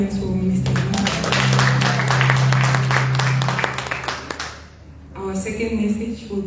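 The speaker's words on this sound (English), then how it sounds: "Can I clap hands for Mr. Mark?" Audience clapping at a church anniversary celebration in Tsumeb, a burst of hand claps lasting several seconds amid voices, then fading out before talk resumes.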